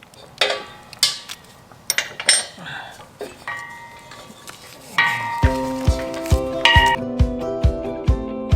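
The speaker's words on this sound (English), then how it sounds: "Take this old hose off." Metal fittings clink and clatter as an old gas hose is unfastened and pulled off an RV, a string of sharp nearby taps and ticks with a steadier rhythmic ticking toward the end.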